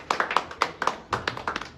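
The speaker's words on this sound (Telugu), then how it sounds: "క్లాప్స్" A handful of people clap at a film poster launch in a studio, crisp uneven hand claps in short bursts, close and fairly loud, with no talk over them.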